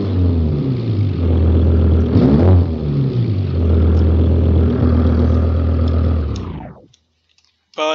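A WRC rally car in the BeamNG video game idles and revs with a buzzy, harmonic engine note. It swells into a rev, holds, then cuts off abruptly into near silence.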